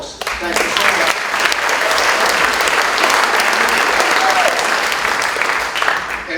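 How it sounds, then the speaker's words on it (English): Loud, sustained audience applause at a film festival opening night, honoring the festival volunteers, fills the whole stretch as a dense, steady wash of many hands clapping. "A round of applause for all these folks."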